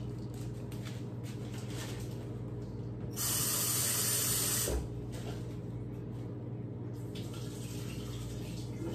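Tap water runs briefly into a kitchen sink while food is rinsed for rice with coconut milk, a loud hissing gush of a couple of seconds over a steady background hum.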